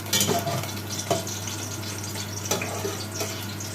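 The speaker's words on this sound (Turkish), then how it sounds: "yağ ile kızartıyoruz arkadaşlar" Eggplant fries in hot oil in a home kitchen, giving a steady close crackling sizzle with scattered sharper pops over a low hum.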